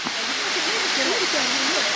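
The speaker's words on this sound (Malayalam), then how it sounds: "തുഷാരഗിരി ഒന്നാം വെള്ളച്ചാട്ടം" Thusharagiri's first waterfall in Kerala pours with a steady, broad roar of falling water, while a voice speaks briefly over the rushing sound.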